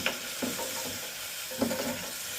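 Onions and vegetables stirred in a hot pan for carrot and bean pulao, a steady soft sizzle with a few scraping stir strokes near the start and middle, close and fairly quiet, no voices.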